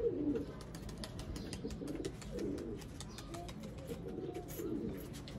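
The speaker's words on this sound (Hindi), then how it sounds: "देखिए जी दोस्तों सियालकोटी छत वाले कबूतर" Sialkoti rooftop pigeons coo in soft repeated bursts, with light fluttering and small rustles around them; quiet and close, with no talking.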